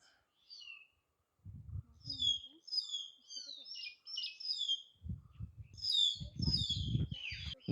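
Several birds chirp and trill repeatedly from trees at moderate distance at a resort near Munnar, while people talk in bursts below the calls.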